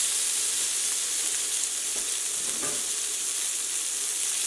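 Sirloin steaks sizzle and fry steadily in a pan over a medium flame, a constant close hiss with slight crackles and no voices.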